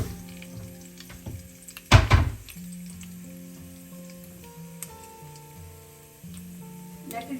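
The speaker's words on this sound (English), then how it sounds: "I'm adding 2 teaspoons of mustard seeds, 1 teaspoon of cumin seed. Let it splatter." Mustard and cumin seeds splatter in hot oil for a fish curry, giving a steady crackling sizzle with one loud burst of spitting early on, faint clinks and stirring, and no talking.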